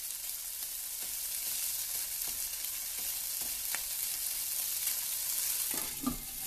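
Shrimp pan-seared in a frying pan alongside pork loin and sugar snap peas, giving a steady bright sizzle with faint stirring clicks and a small clatter near the end.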